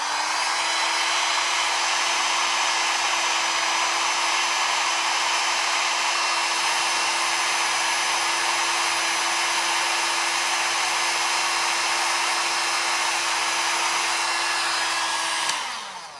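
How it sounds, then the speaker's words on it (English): A travel blow dryer runs steadily at close range with a constant high whine and airy hiss, then switches off near the end, with no talking. "I've got my travel blow dryer here."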